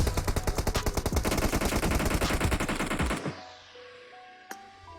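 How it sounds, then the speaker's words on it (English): Distant automatic gunfire rattles in rapid bursts in a battle royale video game match, a dense string of shots for about three seconds, then a single sharp shot against fading background sound. "Now I hear some shots being put off in the distance."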